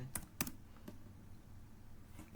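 Computer keyboard typing, a few sharp, close key clicks at the start of the clip followed by faint quiet background, heard alone without speech.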